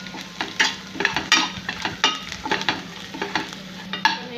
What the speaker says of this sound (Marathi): हे छान असं परतून घ्यायचं कढीपत्ता आणि ह्या काश्मीरी मिरच्या ह्या चांगल्या छान अशा परतून घ्यायच्या आहे